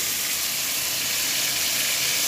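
A pollock fillet frying in a pan gives a steady, dense sizzling hiss that holds level and close throughout, with no voices.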